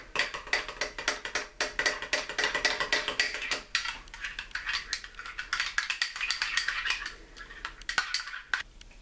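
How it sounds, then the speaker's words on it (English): Ketchup being stirred into a mayonnaise-based onion ring sauce, a spoon clinking and scraping steadily against the bowl in quick, dense, close-up strokes with no talk. "And our ketchup. Stir that in together."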